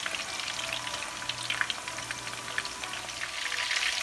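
Chicken kofta meatballs frying in oil, giving a soft, continuous crackling sizzle with scattered pops, steady and fairly quiet, with no talking.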